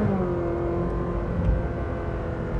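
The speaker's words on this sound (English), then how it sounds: "great blip on the throttle there" Ferrari 458 Speciale V8 engine revving hard from inside the car, a steady loud roar with a throttle blip on the downshift, continuous and close with no talk.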